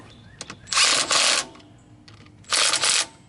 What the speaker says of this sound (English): I've got my Milwaukee 3/8 impact, which is on our products page because this thing rocks. And I'm tightening down the bolts